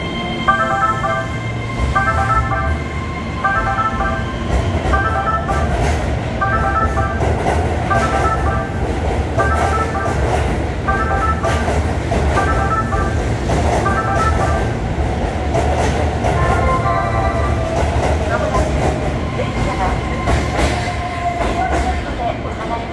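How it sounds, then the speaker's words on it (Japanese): A Keihan Railway 3000 series limited express, the Rakuraku service to Demachiyanagi, rumbles and clatters through a station. The loud, continuous rail noise runs beneath repeating platform announcement tones and voices. "電車が通過します。"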